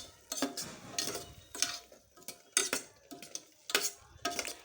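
Soya chunks and chilli powder being stirred together in a pan with a metal spoon, giving several separate scraping and clattering strokes against the pan and a faint sizzle underneath.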